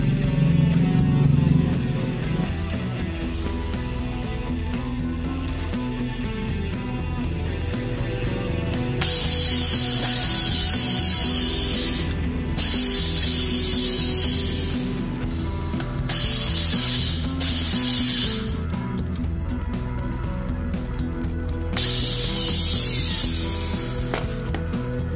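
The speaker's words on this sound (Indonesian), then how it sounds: "Ini kita bor sedikit lebih besar." A drill bores out a hole in a Yamaha Mio scooter's vacuum carburetor, a close, steady mechanical whirring with bursts of louder grinding as the bit bites into the metal.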